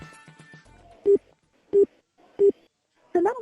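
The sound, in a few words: phone call not connecting, dialing tones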